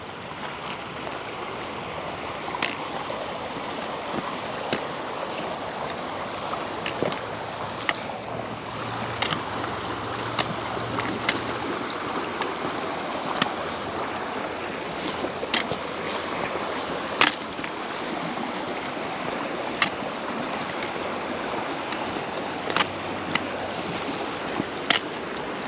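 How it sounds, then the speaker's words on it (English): Water splashing and rushing steadily during a creek crossing, a dense close hiss with scattered sharp clicks and knocks, no voices. "here's our creek crossing"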